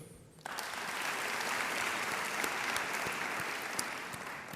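Audience applause at a school district opening day ceremony, a dense sustained wash of clapping that starts abruptly and carries steadily at moderate distance, with no speech over it.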